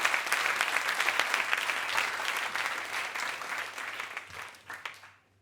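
An audience at a live comedy stage show applauds a volunteer coming up to join the performer, with dense, steady clapping that runs loud for several seconds and then thins out and fades.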